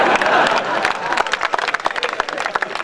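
An audience at a night poetry gathering claps in a brief scattered burst, crowd noise swelling then thinning into separate claps; faint voices murmur underneath.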